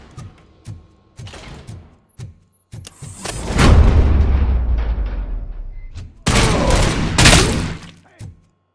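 Gunfire in the video game RoboCop: Rogue City, with scattered sharp shots followed by two heavy, booming bursts of sustained fire that ring out loudly.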